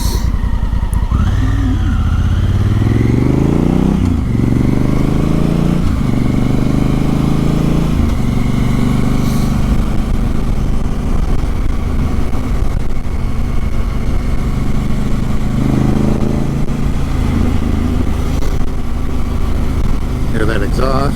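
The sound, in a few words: 2017 Honda Africa Twin motorcycle with aftermarket exhaust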